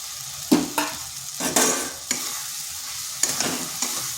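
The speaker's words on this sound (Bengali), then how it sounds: "আলুগুলো মশলার সাথে একটু কষে নিচ্ছি।" Potatoes are stirred and fried with spice masala in oil in a kadai, with a soft sizzle under repeated scraping strokes of a spatula against the pan, close and fairly quiet with no talking.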